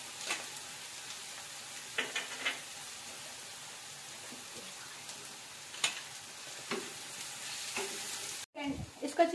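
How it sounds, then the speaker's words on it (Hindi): Ginger and garlic sautéing in a pan for tawa fish, a steady soft sizzle with a few spoon scrapes and stirring clicks, fairly quiet and close, ending with a brief clatter. "इसको हम अच्छी तरह सौते करेंगे, देन हम इसमें ऐड करेंगे जिंजर और गार्लिक"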